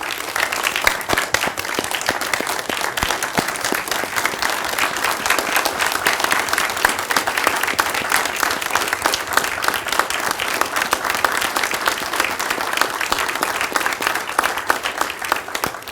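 An audience applauds at a city council meeting: steady, dense clapping from a room full of people, sustained evenly for about sixteen seconds with no talk over it.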